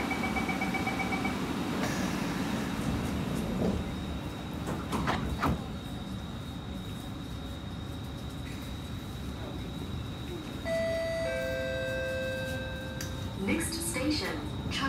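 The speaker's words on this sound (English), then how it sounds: "doors are closing." SMRT C151 train on the East West Line near Jurong East, doors closing with chimes and tones, then the noisy motor humming and whining as it departs, steady rumbling throughout with a closing announcement.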